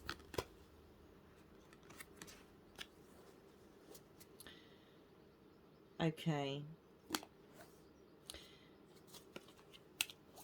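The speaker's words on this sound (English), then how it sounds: "shuffling a hexagonal deck is actually a lot harder than you think that it was" Soft scattered clicks and riffles of a hexagonal card deck being handled and shuffled, quiet and close, with a brief spoken word partway through.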